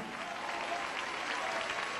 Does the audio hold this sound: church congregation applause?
yes